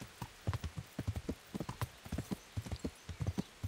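Hooves of a ridden horse in Kingdom Come: Deliverance beat out a steady, close clip-clop rhythm at a trot, loud against a quiet background.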